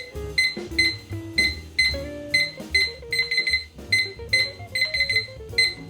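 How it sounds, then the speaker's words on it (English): A kitchen timer being set before shrimp bake at 475 degrees, giving a rapid run of bright, repeated electronic beeps and clicks at close range with no talk. "I'm gonna set a timer because I don't want to ruin it"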